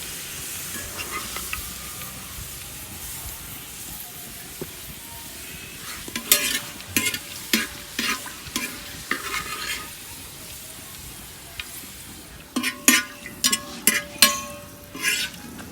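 Frying in hot oil for green biryani makes a steady sizzle, interrupted by bursts of clinking and scraping as a utensil stirs and lifts the browning pieces.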